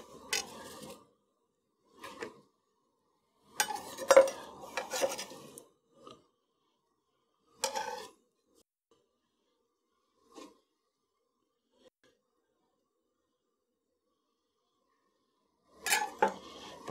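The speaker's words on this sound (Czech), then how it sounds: "Promíchám." Apple and cabbage stirred in a pot while braising, heard as several short bursts of utensil scraping and clinking against the pot, separated by quiet gaps.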